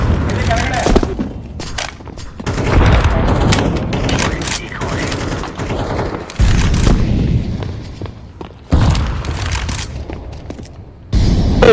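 A grenade bursts and guns fire in Counter-Strike 2, with loud booms and sharp cracks of gunfire coming in irregular bursts while people talk over the action.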